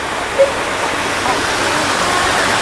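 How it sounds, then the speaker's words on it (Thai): Waterfall near the San Kamphaeng hot springs in Mae On gives a steady, close, full rushing of water that stays constant throughout. "แต่ว่ามันเป็นน้ำตกอ่ะ"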